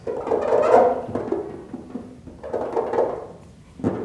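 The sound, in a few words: squeak test rubbing over sealant-coated car paint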